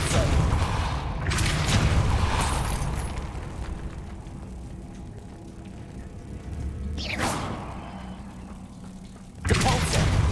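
In Hogwarts Legacy, the Depulso spell goes off as several heavy whooshing booms with mechanical rumble between them. The blasts come at intervals, and the last one is sharp and loud.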